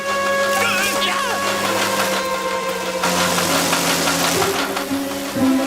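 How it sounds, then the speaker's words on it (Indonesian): A lawn mower engine runs in an animated cartoon, a steady droning hum that carries through the whole stretch beneath excited voices and other sounds. "Di mana mesin pemotong rumputku berada?"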